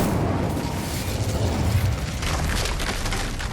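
The Incendio fire spell is cast in a Harry Potter video game, a loud, continuous whooshing roar of flame with rumbling low bursts, held close and steady the whole time.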